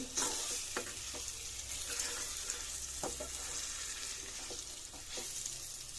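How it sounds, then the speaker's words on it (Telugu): Poha with peanuts, salt and turmeric fries in a pan, giving a steady close sizzle with scattered stirring scrapes and clicks throughout, no voices. "సో యాడ్ చేసిన తర్వాత ఇలా కొంచెంసేపు ఫ్రై అవ్వనిద్దాం. మనం పల్లీలు వేసాం కదా, అది కూడా ఇలా ఫ్రై అవ్వాలి."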